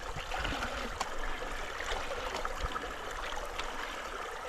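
Water sloshed and swirled in a sieve of gravel while fossicking for sapphires, a steady close trickling and gurgling with small stones shifting, no voices.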